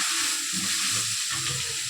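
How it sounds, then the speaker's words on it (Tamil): Garlic, onion and curry leaves sautéing in oil with a little salt, giving a steady, close crackling sizzle with soft stirring scrapes underneath, even in loudness throughout and with no talking. "பூண்டு, வெங்காயம், கருவேப்பிலை எல்லாத்தையும் சேர்த்து வதக்கிட்டேன்."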